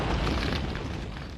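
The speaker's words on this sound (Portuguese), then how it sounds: "manómetros registram a força da explosão que ocorre dentro do avião" A loud, dense blast roars from inside an airplane fuselage during a materials explosion test, a sustained broadband rumble that fills the whole moment without any voices.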